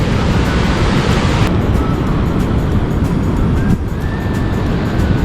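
Rushing water pours down a small falls beside a mini dam, a loud, dense, continuous roar close to the microphone with no voices.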